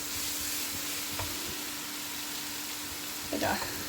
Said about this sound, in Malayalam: 1 കിലോ പോർക്കുണ്ട്, അത് ഞാൻ ആഡ് ചെയ്ത് കൊടുത്തു